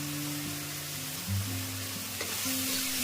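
Tomato masala with turmeric fries in a hot pan, a close, steady sizzle broken by brief stirring scrapes, with a low hum running underneath.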